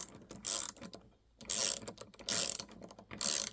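A VIM dual-drive flex-head ratcheting wrench, 1/2 inch by 13 mm, clicking close up in four short ratcheting bursts separated by brief pauses, each a fast run of light metallic pawl clicks; no talk.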